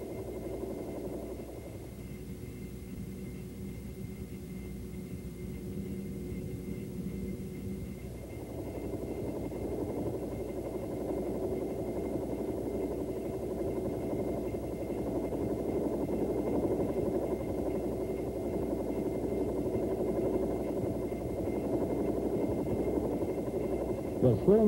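A Bell AH-1 Cobra helicopter drones steadily in flight, a constant low engine and rotor hum running throughout, while a narrator speaks over it.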